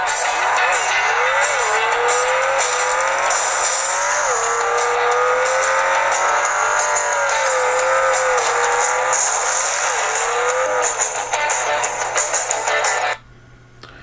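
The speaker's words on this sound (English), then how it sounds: "I like to play a game called Beach Buggy Racing" Engine whine from the Beach Buggy Racing video game plays through a KOSPET Optimus 2 smartwatch speaker as a continuous, fairly loud drone whose pitch rises and falls, then cuts off abruptly near the end.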